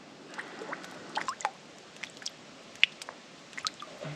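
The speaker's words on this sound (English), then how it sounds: "top my little water bottle up best I can with a few drops at a time" Quiet, irregular drips and small wet plinks of water falling into a container, a few drops at a time over faint background hiss.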